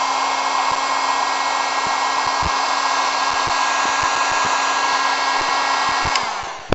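Heat gun blowing hot air onto a servo wire antenna mod for a Tiny Whoop drone, a steady loud whooshing hum that holds for several seconds, with faint clicks, then cuts off at the end.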